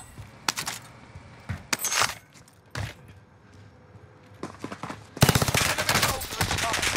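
Gunfire in Call of Duty Warzone on Rebirth Island, with the Bren among the weapons: scattered single shots and short bursts, then a long, loud continuous automatic burst near the end.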